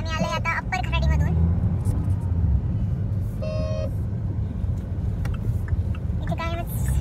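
Busy road traffic in Upper Kharadi, Pune: a constant rumble of engines with repeated car horn toots, loud and close, while voices talk over it.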